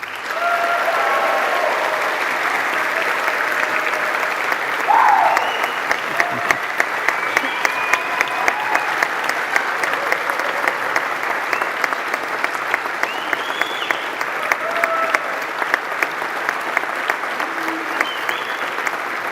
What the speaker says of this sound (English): Give a huge round of applause, please.